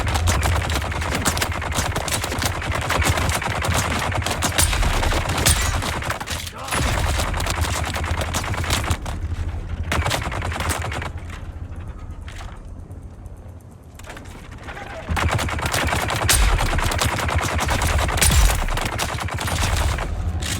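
Sustained rapid gunfire in the video game Dune: Awakening, loud and dense bursts running most of the time, with a quieter lull in the middle before firing resumes.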